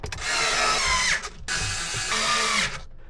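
Power driver running screws in while a BMW twelve-inch touchscreen stereo is installed, two close, loud whirring bursts of about a second each with a short break between.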